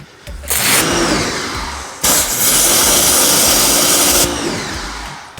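A water spray rinses a car wheel in two long, loud hissing bursts, with a droning motor underneath and a short pause between them.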